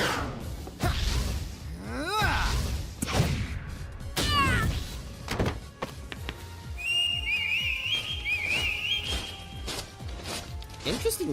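A whistle in a Sonic and the Sovereigns of the Emeralds gameplay recording: a series of rising, warbling whistled tones in the latter half, mixed with game sound effects, whooshes and cartoonish cat-like cries under ongoing talk.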